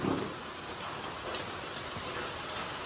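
Steady rain falls outdoors in a monsoon downpour, a dense, even hiss of drops spattering on surfaces all around, with no voices.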